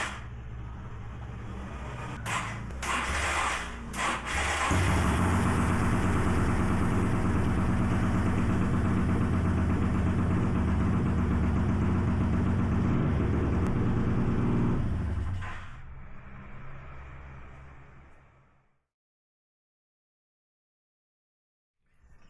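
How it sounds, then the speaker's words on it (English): An old rust-restoration motorcycle cranks with a few clicks and catches when its starter relay is jumped by hand, then idles in a steady close rumble for about ten seconds before winding down and dying into silence. "I'll show you I can start the bike jumping the starter relay manually"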